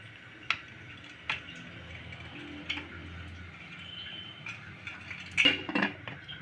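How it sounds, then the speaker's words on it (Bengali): A pressure cooker lid, with the whistle and rubber gasket removed, is set in place on a gas stove, giving a few sharp metallic clinks and taps spaced apart, then a cluster of louder clanks near the end. "কুকারের ঢাকনটা আমি দেবো।"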